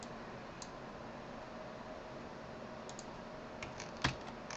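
A password tapped out on a computer keyboard, a few soft scattered key clicks over a steady hiss, with one sharper click near the end.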